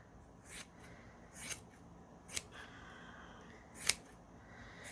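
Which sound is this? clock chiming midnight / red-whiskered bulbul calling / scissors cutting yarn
scissors cutting yarn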